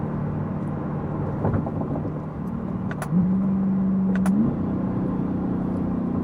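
A Chevrolet C8 Corvette engine drones steadily from inside the car while driven in manual mode, with a brief rise in pitch and quick shift-like transients before settling again.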